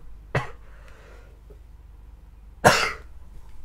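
Two close, sharp coughs from someone who is ill, a couple of seconds apart with quiet between them.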